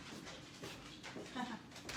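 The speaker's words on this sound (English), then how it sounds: "My dogs were crying because I had kind of separated them" Dogs whimper and pant softly nearby, their faint, uneven cries set against a quiet room with light background noise.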